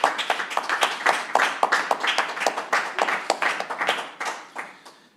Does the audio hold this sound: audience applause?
yes